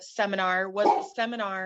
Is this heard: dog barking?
yes